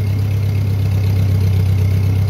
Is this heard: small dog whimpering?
no